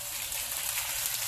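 Onion frying with ginger paste in a pan, a dense, even crackling sizzle, close and steady through the short stretch with no voices.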